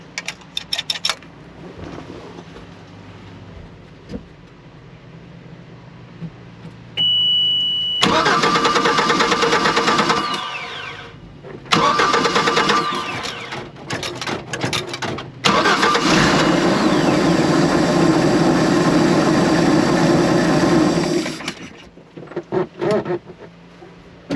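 A boat engine is cranked and fires after a fuel pump replacement: a brief whine, then loud sustained running with a few stops and restarts, close by and without talk.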